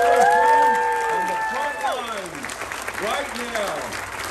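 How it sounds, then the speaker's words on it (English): Crowd at a Navajo Code Talker Day event claps and cheers for active military families, briefly, with whooping voices and tonal calls over the applause. "Give them a wonderful round of applause."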